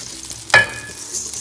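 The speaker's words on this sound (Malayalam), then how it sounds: "ഇതെല്ലാം നമ്മൾ ഈ എണ്ണയിലേക്ക് ഇട്ടിട്ട് ഒന്ന് ചൂടാക്കുക" Whole cardamom and cloves hit hot oil for a vegetable biryani, giving one sudden sizzling burst that settles into a faint, steady hiss.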